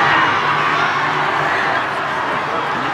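Rugby stadium crowd at a Samoa vs Tonga Pacific Test match in 2013, a steady loud roar of many voices with no break throughout.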